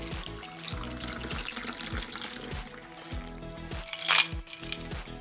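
A shaken alcohol-free mocktail strained into a julep cup over ice cubes: a close, soft pour with trickling liquid, faint clinks and a brief louder splash near the end.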